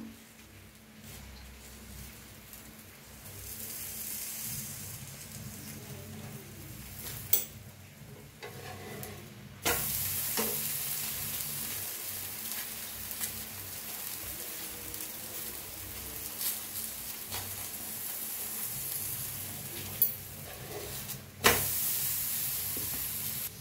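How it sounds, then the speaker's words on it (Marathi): A dhapata flatbread roasts with butter on a pan, giving a faint steady sizzling hiss that grows a little louder partway through, with a few soft clicks and no talking. "दोन्ही साईडनी छान असं भाजून घेऊया बटर लावून"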